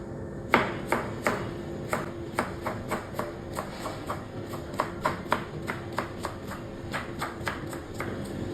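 Okra being finely chopped with a knife on a board, a run of roughly twenty crisp, evenly spaced taps close by, slightly slowing toward the end, with no talk over it.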